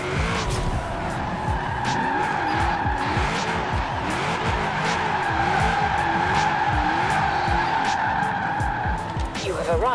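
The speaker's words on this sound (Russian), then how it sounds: "попробуйте пройти этот поворот боком" In the racing game Forza Horizon 4, a car drifts sideways through a corner, its engine revving and shifting beneath sustained tire squeal and skidding, loud and close; a voice talks over it at times.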